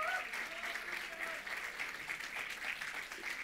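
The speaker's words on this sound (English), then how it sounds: "give the Lord a clap offering" A church congregation gives steady applause as a clap offering, a continuous wash of many hands at moderate distance with faint voices and a brief cry mixed in.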